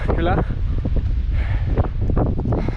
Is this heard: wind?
yes